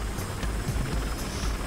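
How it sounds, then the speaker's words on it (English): A helicopter in the Battlefield Hardline video game flies steadily, a continuous droning rotor and engine noise holding at an even level throughout with no talk. "It's such a slow chopper,"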